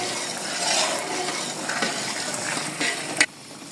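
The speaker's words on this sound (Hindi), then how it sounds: "ये सूजी ने बिल्कुल घी छोड़ दिया है।" Semolina roasting in ghee with cardamom powder for suji halwa gives a continuous close sizzle, with stirring scrapes across the pan and a sharp metallic clank near the end.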